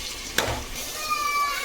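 Onions frying in hot oil in a pan while a spiced dried-fish and cluster-bean dish is cooked, giving a steady close sizzle with a brief sharp crackle near the start.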